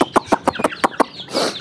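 Domestic chickens cluck in a quick series of about seven sharp calls, close and fairly loud, followed by a brief rustling flutter at the end.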